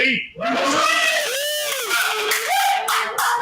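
A live broadcast crowd at a venue cheers and shouts in response, loud whoops and yells with scattered clapping filling the short stretch after a brief pause.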